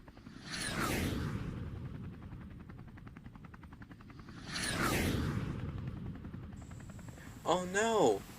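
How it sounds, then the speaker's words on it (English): An approaching jet engine in an animated train story roars past in two loud whooshing swells, then a brief high mechanical whine rises near the end while voices speak over it. "The jet engine's coming back!"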